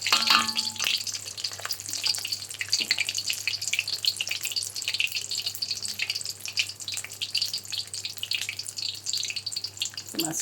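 Popiah spring rolls fry in hot oil with a steady, dense sizzle and crackle at close range, continuous throughout with no talking.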